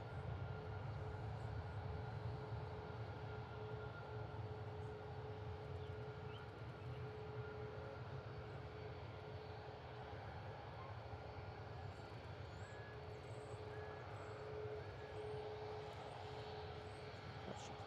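An aircraft approaching to land at Reagan National Airport produces a steady, distant engine drone and broad rumble that holds evenly throughout without breaks.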